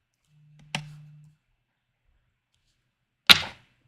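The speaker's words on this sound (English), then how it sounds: "And we'll do all of our punching at one time" A paper punch cuts stamped bee shapes from card, two sharp, isolated clunks a few seconds apart in an otherwise quiet room.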